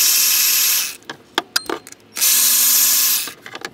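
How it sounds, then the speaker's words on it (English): A 3/8-inch ratchet turning a 10mm socket on ignition coil bolts gives two bursts of rapid clicking separated by a few scattered clicks and knocks, close and loud, with no talk. "You can use a 3/8" ratchet with a 10mm"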